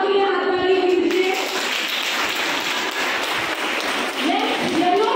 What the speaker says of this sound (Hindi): ब्लू हाउस के लिए हाथ ताली कीजिए